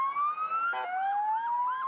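An ambulance siren wails in rising and falling sweeps with a brief harsh horn-like burst midway, clear and fairly close with no talk.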